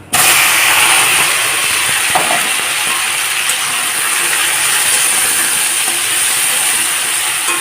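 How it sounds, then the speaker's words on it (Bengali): Boiled taro goes into hot mustard oil in a wok over a low gas flame, giving a loud, steady broadband sizzle that starts abruptly and holds for several seconds with no talking. "কড়াইতে দিয়ে দিয়েছি সর্ষের তেল তেলটা গরম হয়ে গেছে এখন গ্যাসটাকে লো ফ্লেমে করে দিয়ে সিদ্ধ করে রাখা কচুগুলোকে দিয়ে দেবো"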